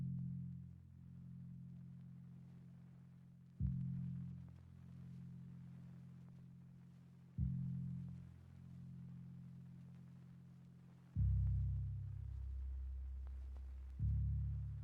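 Deep synth bass from a stock FL Studio plugin, treble and mids cut and bass boosted, follows the root notes of a melody in long sustained low notes, each starting with a soft attack, fairly quiet and alone.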